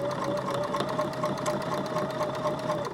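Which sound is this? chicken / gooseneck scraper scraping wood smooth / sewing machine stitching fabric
sewing machine stitching fabric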